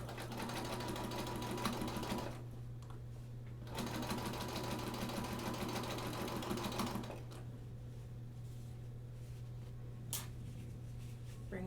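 A sewing machine sews binding onto a quilt in two long bursts of quick rhythmic stitching, each a few seconds long and separated by a short pause, with a faint hum and a few small clicks afterward.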